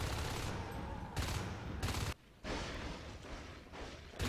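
Game gunfire in a Natural Selection 2 competitive match: loud, dense bursts of automatic fire in several sustained volleys, broken by short gaps, with a faint voice underneath.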